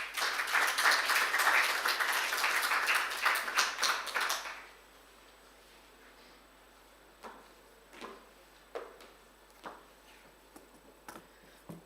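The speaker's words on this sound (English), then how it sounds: "I would like to give her a warm round of applause." Audience applause at an annual lecture honouring Archbishop Thabo Makgoba, a dense burst of clapping for about four seconds that stops abruptly, followed by quiet room tone with a few faint knocks and rustles.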